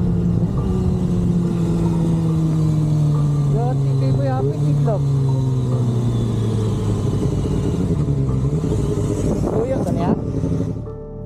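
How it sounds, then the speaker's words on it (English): A motorcycle engine rides along a busy road, a steady close drone with slow pitch changes running through the whole stretch, with traffic passing around it. "a motorcycle rider is driving down a busy road that is notorious for being the site of many fatal accidents"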